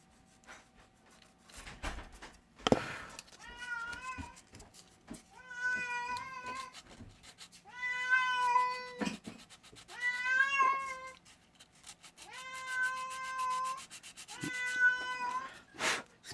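An unhappy, heavyset cat meows repeatedly in a quiet workshop where a car is being built, with about six drawn-out, whiny cries spaced a second or two apart and a few faint knocks between them.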